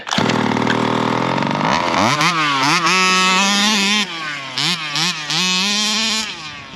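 A Rovan Baja 5B petrol RC car engine fires up after a restart and runs, loud and close, its buzzing two-stroke note rising and falling with repeated throttle blips.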